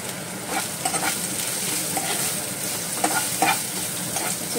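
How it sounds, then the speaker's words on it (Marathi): Chopped onions fry in a pan until translucent, with a continuous close sizzle and occasional stirring scrapes throughout, no voices. "मातशें ट्रान्सलुसंट जावपर्यंत भाजून घेता."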